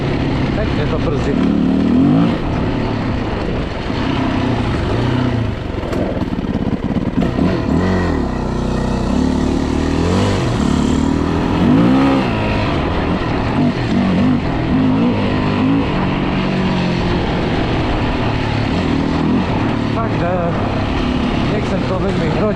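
A Yamaha WR450F motorcycle riding through a field after repairs, its engine loud and close with rising and falling revs throughout, and a rider talking over it.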